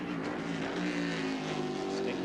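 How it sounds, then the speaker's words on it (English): Big Ford V8 race car engine at the Grand-Am 2000 Sun Automotive 200, a steady loud drone with strong low harmonics that holds throughout, with a faint voice mixed in. "Distinctive engine sound from that big Ford V8."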